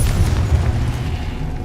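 A Confringo spell blast in the game Hogwarts Legacy, a loud, deep booming explosion with a rumbling low-end tail that fades over under two seconds.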